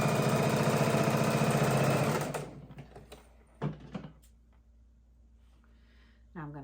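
A sewing machine runs steadily for about two seconds, stitching 2.5 inch strips together as a baby quilt border, then stops; a few soft clicks and thumps of handling follow in the quiet.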